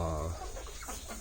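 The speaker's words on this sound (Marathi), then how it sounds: "या कोंबड्या आम्ही गणेश कोलीवाड सरांकडून घेतलेल्या" Multicolour country chickens clucking on a Konkan farm in Ratnagiri district, a short close burst of hen clucks over a low steady background.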